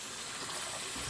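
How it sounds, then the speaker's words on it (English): Cold tap water runs steadily over raw chicken as it is rinsed, a continuous close splashing gush with no voices. "Give it a good rinse."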